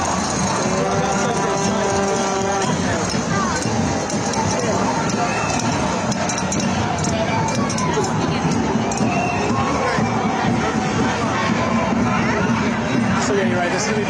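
A dense crowd at a No Kings protest against President Donald Trump fills the air with continuous chatter, shouts and scattered cheers, loud and close throughout, with voices talking nearby.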